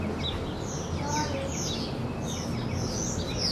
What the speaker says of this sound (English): If you listen closely, they do have birds out here in the desert.